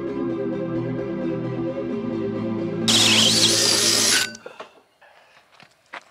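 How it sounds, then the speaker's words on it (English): A power drill bores a hole through the wall of a box truck for the copper lines of a ductless mini split heat pump. A steady motor hum runs first, then a loud, high, whining bite through the material for about a second and a half before it stops. "I'm going to drill a hole up top for the copper lines"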